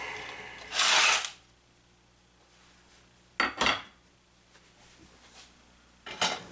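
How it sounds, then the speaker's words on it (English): A few heavy cleaver chops through tough tubers land at uneven intervals, one single and then a quick pair, with near silence between them. "Here's where it's good to have a strong cleaver for chopping up those tough tubers."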